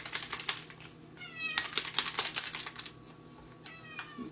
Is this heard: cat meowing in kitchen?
yes